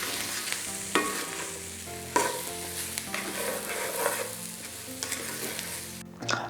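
Cashews are stirred in oil in a pan for Sri Lankan tempered cashews, giving a soft frying sizzle and several sharp spoon-against-pan scrapes and clanks, close and without talk.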